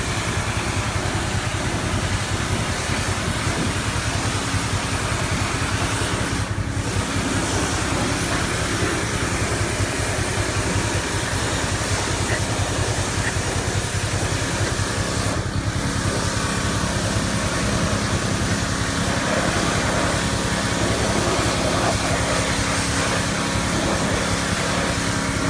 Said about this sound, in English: Okay, I got my pressure washer set up.